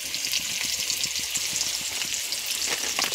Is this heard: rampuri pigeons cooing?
no